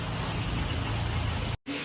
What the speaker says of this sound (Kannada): ಯಾವಾಗ ನಿಲ್ಲಕ್ಕೆ ಮಳೆ ನೋಡಿ ಗೈಸ್, ಕಾಣಿಸ್ತಿದೆ, ಸ್ವಲ್ಪ ಜೋರಾಗಿ ಬರ್ತಾ ಇದೆ.